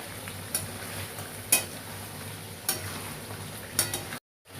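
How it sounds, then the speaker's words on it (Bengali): Chicken curry with meat masala and tomato puree sautéing in a pan, a soft steady sizzle broken by four sharp spoon scrapes and stirs, quiet and close with no talking. "মিট মশলা দিয়ে আমি আবার সুন্দর করে একটু কষা করে নেব"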